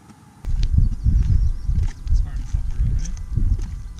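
Horses walk along a rural road, hooves clip-clopping close by in an uneven rhythm under a speaking voice.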